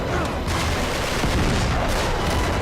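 Gunfire crackles in a dense, continuous barrage during Uncharted 3: Drake's Deception gameplay, loud and overlapping shots with no clear gaps.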